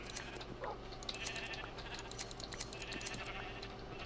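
Sheep bleating in the Minecraft video game during a shearing session, several short game bleats repeating over a steady background hum, moderately loud and no one talking.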